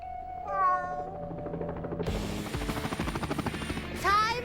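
A cartoon cat lets out two loud, drawn-out meows, one near the start and one near the end, over a busy animated soundtrack with a whirring, helicopter-like drone in the middle.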